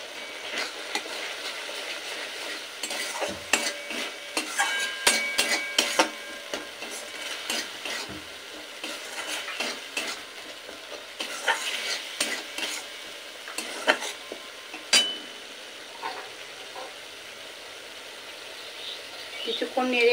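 Bitter gourd masala gravy stirred in a pan: a continuous soft sizzle broken by frequent sharp scraping and clinking strokes of a spatula, close up, with quieter stretches between bursts of stirring.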